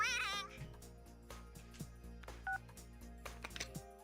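A short electronic beep marks a phone call ending in the video game Persona 4. It sits among soft game music and menu chimes, with a brief two-tone tone near the middle.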